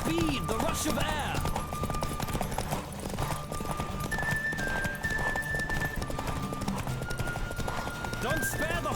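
Rapid hoofbeats of a galloping horse in The Witcher 3 with game music and whooshes, a horse whinnying at the start, steady and loud throughout.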